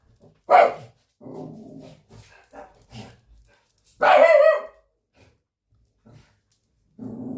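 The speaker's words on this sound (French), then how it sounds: "Pacha, toujours Pacha qui aboie." A dog barks in short, sharp bursts indoors, loud and close, with a couple of distinct barks separated by quieter breathy noises and pauses.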